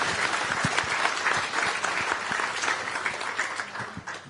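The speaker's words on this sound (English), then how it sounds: "So please give him a huge round of applause." A conference audience gives a warm, sustained round of applause to welcome the session host, a dense, even clapping that holds steady and tapers slightly at the end.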